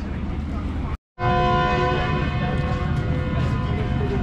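The Green Line Express sounds a loud, sustained horn while departing Khanewal Junction station, a rich steady chord ringing close by after a brief silent gap, over low rumbling and platform noise.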